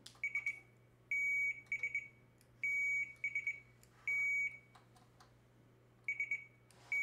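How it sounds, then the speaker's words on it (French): Quiz buzzers tested one after another, alternating bursts of rapid short beeps with single longer steady tones, repeating clearly over a quiet room hum with no talking. "on teste les buzzers, un par un"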